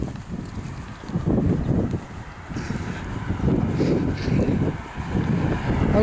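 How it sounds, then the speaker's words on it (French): Strong outdoor wind buffets the microphone in heavy low rumbling gusts that rise and fall throughout, loud and close. "il y a vraiment trop de vent"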